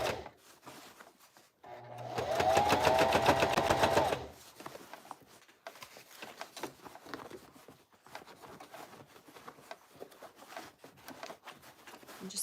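A sewing machine stitches through a fabric bag in one steady, fairly loud mechanical run of about two seconds, framed by quieter handling noises and light clatter before and after.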